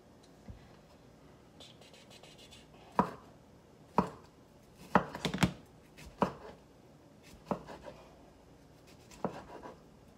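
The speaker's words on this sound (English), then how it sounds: "let me dice this up, and I'm going to do that one pretty fine" A knife dices a tomato finely on a cutting board for garlicky guacamole: sharp, irregular chopping strikes, close and crisp, with several in quick bursts and short pauses between, and no talking.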